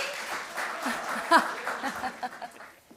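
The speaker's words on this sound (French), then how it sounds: "On les applaudit" Audience at an awards gala, a short patch of scattered applause mixed with light laughter and a brief vocal burst, thinning out toward the end.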